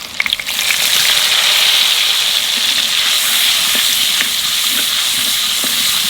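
Turmeric water hits hot oil with black cumin and green chillies in a pan, giving a loud, steady sizzle and hiss that stays strong throughout.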